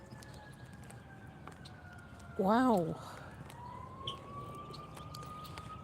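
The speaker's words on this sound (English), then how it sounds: "there's something big going on here. All these sirens." A siren wails in one loud rising-and-falling sweep over steady traffic hum, with other sirens droning more faintly. A voice speaks one brief word.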